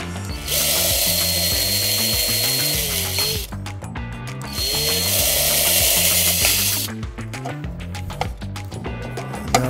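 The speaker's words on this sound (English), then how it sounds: "You want to drill it." Two bursts of power drilling into plastic 1954-1956 Cadillac tail light parts, each a few seconds long, with a steady tonal background and scattered mechanical clicks between them.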